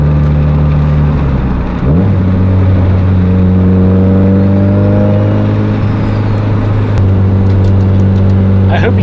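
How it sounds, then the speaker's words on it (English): A loud, close turbocharged car engine revs up and holds a high droning pitch with a whining turbo rise, then eases off and revs again. "It's like a T51R sound, but it's almost higher pitched."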